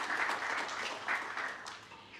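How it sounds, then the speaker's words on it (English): A forum audience applauds a panelist, a brief, fairly soft burst of many hands clapping in uneven pulses that thins out toward the end. "A round of applause to him."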